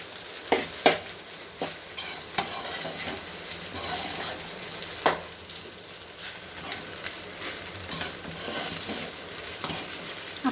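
Egg rice being mixed in a hot pan, repeated scraping stirs and spoon knocks over a continuous sizzle, close and steady for about ten seconds with no talking.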